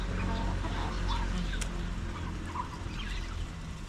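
Backyard chickens in a coop, with faint scattered clucks and calls over a steady low rumble of ambient noise, fairly distant and continuous.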